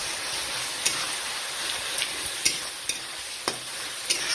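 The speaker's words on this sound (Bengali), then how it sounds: "লবণ হলুদ দিয়ে দিলাম, দিয়ে তারপরে নেড়ে নেব।" Mutton curry masala with salt and turmeric is stirred in a pan, a soft continuous sizzle with scraping strokes and a few sharper ladle taps against the metal, close and alone.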